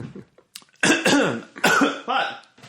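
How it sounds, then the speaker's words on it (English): A person coughs several times in quick succession, harsh throaty bursts close to the microphone, with a brief softer rasp beforehand. "I keep coughing"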